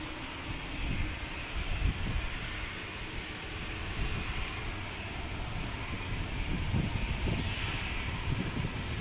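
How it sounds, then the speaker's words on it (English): Delta Airlines Airbus A220-100 taking off from an airport, a steady distant rumbling engine roar that builds slightly, mixed with wind and broad background noise. "Here comes Delta Airlines on an A220-100 taking off to Seattle"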